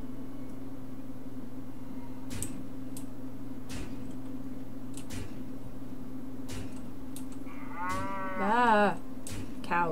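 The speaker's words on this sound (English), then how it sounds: "Cows. Farmville." Cows in the card game Hearthstone give a single drawn-out moo near the end, over a quiet steady game hum and occasional soft clicks.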